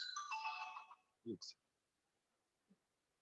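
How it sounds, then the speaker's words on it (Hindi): A phone rings with an incoming call during a finance lecture: a short bright electronic melody lasting about a second, fairly faint, then a few clicks and silence. "कॉलेज से फोन आ रहा है"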